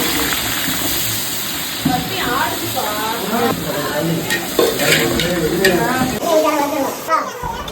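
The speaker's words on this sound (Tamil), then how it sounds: "வெங்காயம் நல்லா கண்ணாடி மாதிரி வதங்கிடுச்சு" Steady sizzling of sliced large onions frying in a pan with scraping stirring strokes, close and continuous, with voices talking over it now and then.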